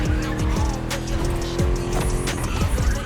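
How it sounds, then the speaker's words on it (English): V8 muscle car in The Crew Motorfest racing game, engine growling loud and close with revs rising and falling through gear changes, tires squealing as it skids through a corner. "Just listen to that V8, like a chunky, down-tuned guitar riff."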